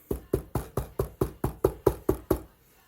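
Knocking on wood: eleven close, crisp knocks in an even, quick rhythm, then silence.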